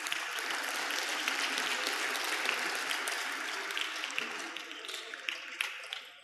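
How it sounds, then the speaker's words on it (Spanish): Audience applause during a Spanish-language lesson about camels, a sustained roar of many hands clapping that thins toward the end into scattered individual claps. "Le damos un fuerte aplauso al Señor."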